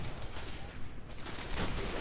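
Rapid gunfire in the PS4 shooter Destiny, set on Venus or Mars, a dense continuous barrage of shots filling the whole stretch at steady loudness with no voice over it.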